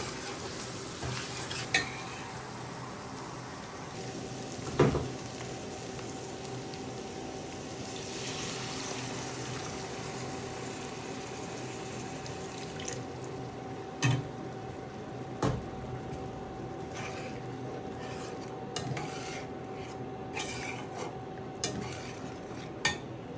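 Egg with spices fries in a pan for Bengali egg korma, a steady quiet sizzle with occasional sharp clinks and scrapes of a spoon stirring against the pan, close and continuous with no talk.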